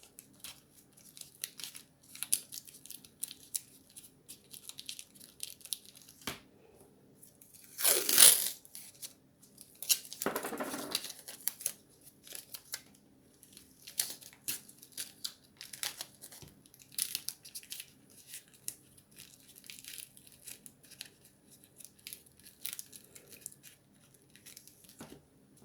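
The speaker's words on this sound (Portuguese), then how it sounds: "Vou passar fita crepe até cobrir toda esta parte." Masking tape pulled off the roll, pressed down and torn, heard as sporadic crinkling and tearing with a few louder ripping bursts amid quiet handling noise over a long stretch.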